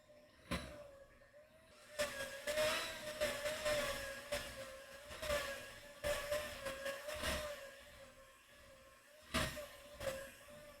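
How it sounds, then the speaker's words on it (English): An electric mixer whipping whoopie pie filling, a steady motor whine punctuated by repeated louder bursts of beaters churning through thick cream, close and without talk. "Once it starts to soften up, you can turn up your mixer a bit."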